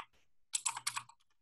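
A short flurry of quick keystrokes on a computer keyboard as a command goes into a Linux terminal, crisp clicks close up in a quiet room.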